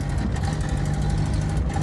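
Mazda Miata race car engine running rough in second gear, a loud continuous low droning rumble from inside the car, steady and unbroken for under two seconds.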